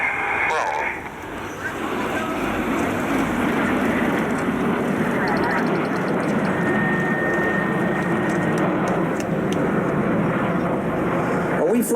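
Red Arrows jets performing a diamond roll in formation at an Armed Forces Day display, a steady, loud broadband roar that fills the whole stretch with little change, with crowd and commentary murmur underneath.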